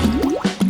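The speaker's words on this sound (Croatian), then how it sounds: "Zatvaram i kapljem u vodu." Drops of a watermelon juice mixture fall into water one after another, each making a quick, close, bright plip with a small liquid bloop.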